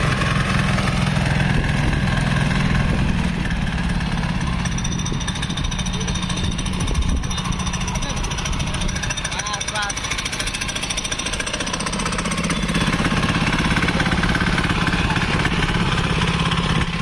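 A 7 hp chain cultivator engine runs with a rotavator attached behind, a loud, rapid, hammering putter that stays steady throughout at close range while someone talks over it.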